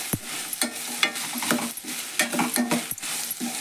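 Sprouted moth bean palya with tomato frying in a pan: a spatula scraping and tapping against the pan in irregular strokes over a continuous close sizzle.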